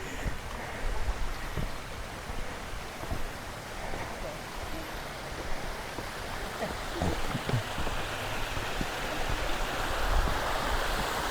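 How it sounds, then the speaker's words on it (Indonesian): A small river stream rushes steadily on a hike on Mount Luhur, a continuous close watery hiss with some wind rumble. "Ini ada sungai kecil di sini."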